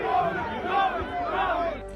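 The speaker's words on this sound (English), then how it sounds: "the crowds erupting." A crowd at a political rally erupts in loud, sustained cheering and shouting, with waves of voices swelling and rising over the full span, close and dense.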